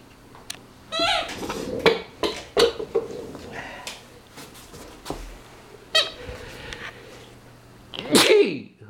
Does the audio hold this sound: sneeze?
yes